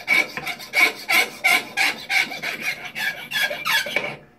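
Hand filing smooths small metal puppet armature parts clamped in a vise, giving steady rhythmic rasping strokes, about a dozen close, even passes in a row.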